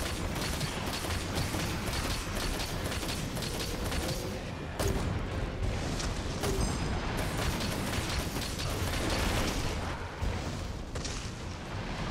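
Cannons firing during a Rampage hunt in Monster Hunter give a dense stream of booms, bursts and mechanical clatter, steady and loud throughout with no clear pauses.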